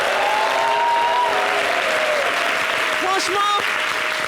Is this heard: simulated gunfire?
no